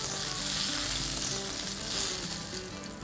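Tilapia fries in oil in a pan, a continuous close sizzle with a soft bubbling texture and a few faint stirring sounds, no voices.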